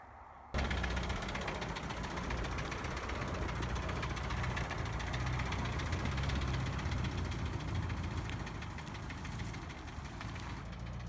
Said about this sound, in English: Back his truck up to this little hill